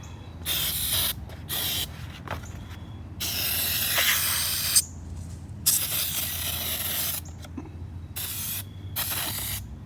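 Bursts of automotive engine degreaser sprayed from an aerosol can onto a boat's flame arrester, several hissing sprays of one to two seconds with short gaps between them, close and fairly loud.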